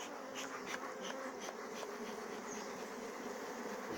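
Honeybees buzz in a steady, faint, dense hum around a brood box that has just been shaken during work on a nucleus hive.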